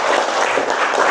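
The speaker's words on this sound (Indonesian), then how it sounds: "Tepuk tangan untuk Cindy" A classroom of students applauds a pupil named Cindy, giving a short, dense burst of many hands clapping at once, close and fairly loud with no voices over it.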